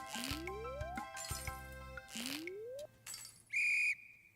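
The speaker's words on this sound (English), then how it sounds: "Can you hear it? Hear the whistle?" A slingshot charging in Stardew Valley gives a rising whistle that sweeps upward three times in a row, each followed by a soft clink, then a short bright chime, with faint game sounds underneath.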